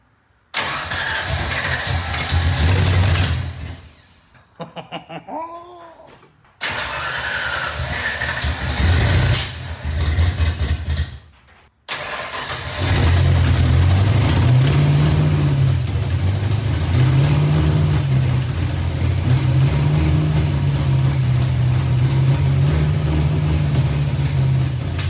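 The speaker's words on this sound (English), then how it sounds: "I hear a big ass exhaust leak though. Oh, I think she might run." A scrapyard notchback car cranks over, stumbles, and after a couple of attempts fires up and runs with a rough, loud engine note and a noticeable exhaust leak, close by.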